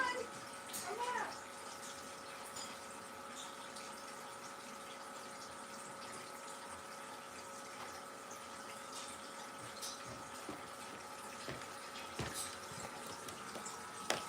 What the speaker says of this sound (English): I'm trying to fill up some water.